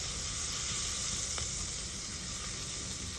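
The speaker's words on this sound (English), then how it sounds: "I'm just gonna, like saute this for about a minute or two" Chopped onion and garlic sauté in a pan for spaghetti meat sauce, a steady, even sizzling hiss heard close up without any voices.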